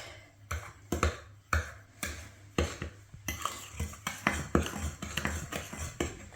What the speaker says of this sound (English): Let's stir that in real quick.